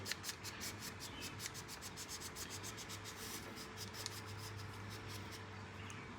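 Nylon pull-cord rope on a Honda push mower slowly retracting back into its recoil starter, a soft continuous rubbing and scraping close by with small rhythmic ticks, quiet and alone without talk.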